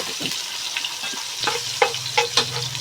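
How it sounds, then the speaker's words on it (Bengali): Onions crackling in hot oil with whole spices for beef biryani, a brief close sizzle punctuated by a few sharp spatula scrapes and taps. "পেঁয়াজটা সুন্দর করে আমি ভেজে নিচ্ছি"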